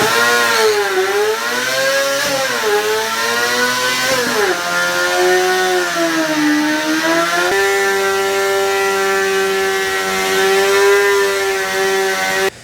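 High-revving Honda CBR 250RR motorcycle engine screaming toward 19,000 RPM, a loud, steady, piercing wail that rises and dips in pitch through the revs before settling into a sustained high note, with no talk.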